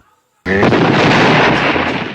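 A loud, sudden explosion sound effect bursts after a lighter is used, a close booming blast with crackling debris that decays over about two seconds.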